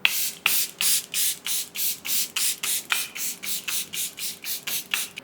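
Charlotte Tilbury Magic Hydrator Mist sprays in a steady run of about fourteen short, hissing pumps, close and fairly loud, evenly spaced with no one speaking.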